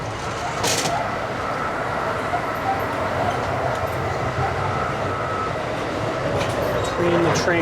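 Amtrak coach train rolling along the tracks, a steady loud rumble with rattling car noise and faint squeals, continuous throughout.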